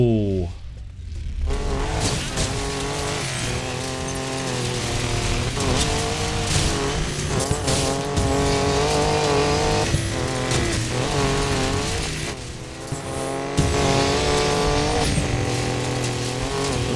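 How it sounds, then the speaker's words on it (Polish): In the racing game Need for Speed Payback, a Ford Raptor's engine revs and drops through gear changes while its tires squeal, with a person talking over the game sound. "Trzeba przyznać, że te dźwięki naprawdę są fajne w tym Need for Speedzie."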